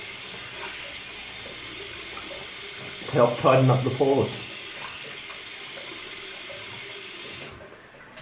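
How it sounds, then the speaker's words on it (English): A tap runs steadily into a bathroom sink as cold water rinses a freshly shaved face, a continuous wash under a brief burst of close splashing while someone talks over it. "And then a cold water finish"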